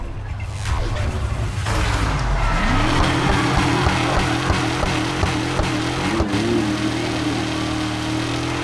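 A car drifts in the Need For Speed Heat racing game, its engine revving steadily while tires squeal in long, sustained skids that rise and waver across several seconds, loud and close with no talking.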